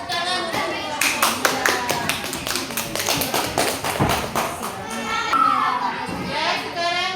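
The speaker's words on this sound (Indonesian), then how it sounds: "Beri tepuk tangan untuk kelompok" Classroom of children clapping for a group's answer, a lively burst of close, uneven hand claps and taps mixed with children's chatter and voices.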